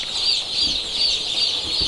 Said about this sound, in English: I'd like to take you across here to have a look at some newly hatched chicks and ducklings which have just arrived with us